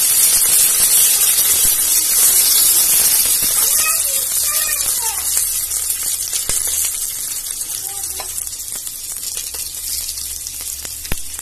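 Curry leaves with finely chopped ginger and garlic sizzle and crackle in hot oil for a while, a loud and steady close-up hiss with scattered pops. A person talks over it.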